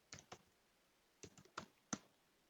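Five sparse keyboard clicks typed on a computer while entering a network address in a router configuration, in two short bursts, close and fairly quiet with no talking.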